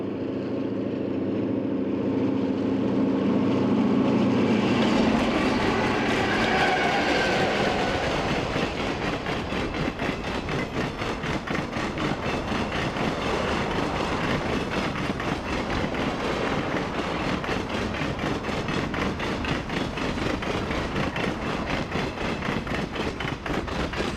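Westbound Domeliner passenger train near Granger, Wyoming, approaching and then passing close by with a loud, sustained rush and a rapid, even clickety-clack of wheels over rail joints.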